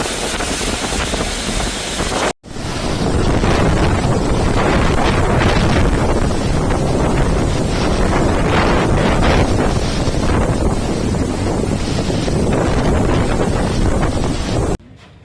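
Strong gusts from Cyclone Garance lash Reunion Island, roaring loudly and continuously against the microphone with heavy buffeting and a brief cutout near the start.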